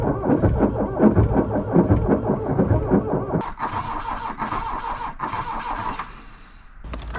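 A Volkswagen Rabbit on a fresh battery in cold weather cranks in a quick rhythmic churn for about three seconds, then catches and runs with a steady, loud engine note close by.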